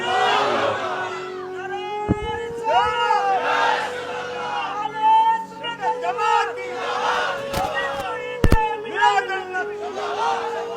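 A large crowd at a religious sermon shouts the takbir in loud, rising collective chants that come in several waves, with a single voice leading between them.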